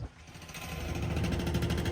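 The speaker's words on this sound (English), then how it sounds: "you see this guy drilling, and he's drilling with that drill bit thing" A workman's drill chatters outside, heard through an open car window of a Cadillac Lyriq EV, a steady rapid mechanical rattle growing louder, moderately distant.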